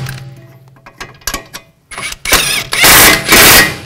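Ratchet wrench snugging the strut assembly nuts on a 2004-10 Toyota Sienna front suspension, with sparse clicks building into loud, rapid, close ratcheting bursts toward the end.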